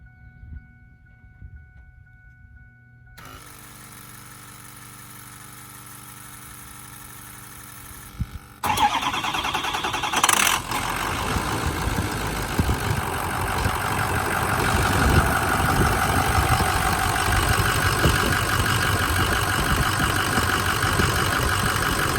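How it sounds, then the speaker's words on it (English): A 2006 Ford F250 with the 6.0-liter diesel engine cold-starts after a low hum, catching abruptly and settling into a loud, steady, clattering idle close by that keeps running. "let's do a cold startup on a 2006 F250 6-liter diesel"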